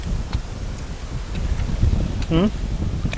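Strong wind gusts steadily against the microphone outdoors, a continuous rumbling rush with a short voice-like sound partway through.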